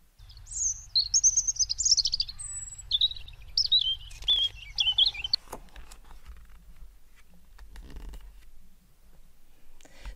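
A European robin sings a clear, high, warbling song of varied trills and whistles for about five seconds, with a low hum underneath. Scattered faint clicks and rustles follow.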